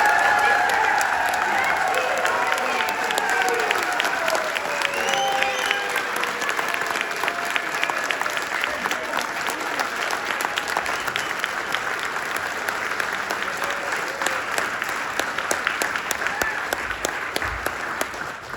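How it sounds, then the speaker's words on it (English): A standing audience at a rally claps loudly and continuously to welcome the leader of the People's Party of Canada, a dense wash of applause with faint cheering that runs nearly twenty seconds without letting up. "Please stand, clap your hands, give a warm welcome to the Leader of the People's Party of Canada"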